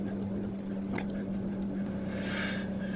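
A Hyundai Tucson with a low-circuit fault in its mass air flow sensor idles while warming up, a steady low engine drone with a constant hum and no pauses, close by.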